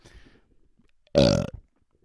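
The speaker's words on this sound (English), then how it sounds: "I love listening to myself belch, especially over these big headphones." A single loud, deep belch lasting about half a second, close and resonant, following a quiet stretch of faint background sound.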